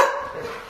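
A pet dog gives a single short bark, close and moderately loud, with no voices over it.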